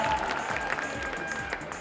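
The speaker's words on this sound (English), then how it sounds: "Round of applause, please." Audience at a Zumba concert claps briefly, a short patter of hands with a faint crowd murmur and some tonal sounds underneath.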